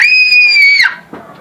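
A young child lets out a long, high-pitched scream on request, loud and close, before it breaks off into a brief softer vocal sound.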